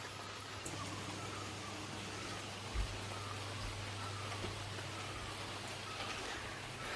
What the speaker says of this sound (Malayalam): ഇപ്പോഴും മഴ പെയ്തുകൊണ്ടിരിക്കുന്നുണ്ട്.